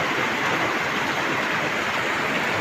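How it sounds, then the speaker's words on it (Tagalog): Heavy monsoon rain in the Philippines pours steadily as a dense, continuous hiss with no pauses, close and loud throughout. "Lakas ng ulan."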